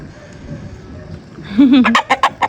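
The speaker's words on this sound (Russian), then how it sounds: "Курочки." Chickens cluck close by in a quick run of short, sharp calls after a brief low warbling note, over faint background noise, while drinking water in a Bashkortostan village.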